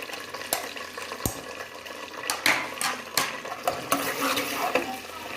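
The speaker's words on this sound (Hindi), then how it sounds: "घी हमारा गर्म हो चुका है," Onions dropped into about a cup of hot ghee in a pressure cooker on a stove, a steady close sizzle and crackle with stirring scrapes and a few sharp clinks of a spoon against the pot.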